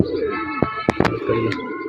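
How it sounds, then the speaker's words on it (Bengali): Pigeons from a sky pigeon loft coo as they come down to bathe, soft repeated throaty calls close by, broken by a few sharp flutter-like bursts. "নামছে কিছু কবুতর গোসল করতে, দেখা দেখি আস্তে আস্তে সবগুলোই যাবে গোসল করতে"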